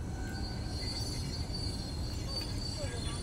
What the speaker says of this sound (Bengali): এই যে দেখো ট্রেন যাচ্ছে রাস্তা দিয়ে